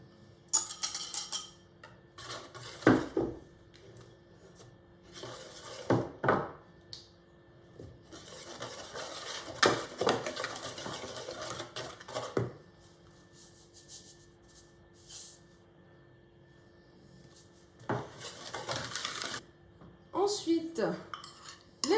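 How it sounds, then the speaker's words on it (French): Dry ingredients for a vegan cherry clafoutis are stirred in a bowl, with intermittent clinks and scrapes of a utensil against the dish and quiet pauses between bursts. "je vais commencer par mélanger tous mes ingrédients secs"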